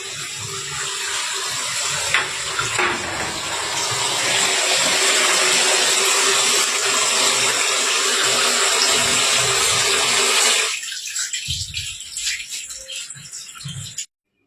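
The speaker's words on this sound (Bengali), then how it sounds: "ট্যাপটা চালিয়ে এসেছি, মানে গামলাটা ভরে গেছে।" A household water tap runs into a filling basin, a loud, steady gush of water that builds over about ten seconds, then cuts off, leaving scattered drips and clatters.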